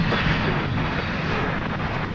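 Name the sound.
FedEx Boeing 767 aircraft arriving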